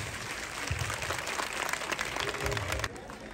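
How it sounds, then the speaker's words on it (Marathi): An audience applauds a dance at a live show, with a dense, fairly faint wash of clapping that swells briefly and then trails off. Crowd voices mix in underneath. "वहिनीचा डान्स आवड असेल तर जोरात टाळ्या वाजवा."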